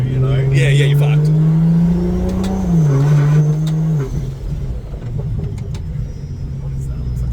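A Honda Odyssey drift car with a 2JZ engine approaches and revs: a loud sustained engine tone rises and dips, then drops off into rough rumble, with people talking nearby.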